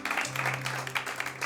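A church audience applauding the shepherd, a brief moderate burst of many hands clapping with a low steady hum beneath it.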